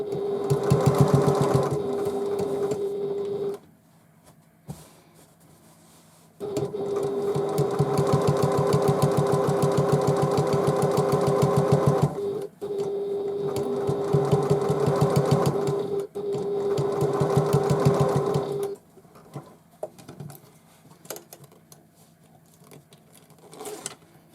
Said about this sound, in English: And now top stitch.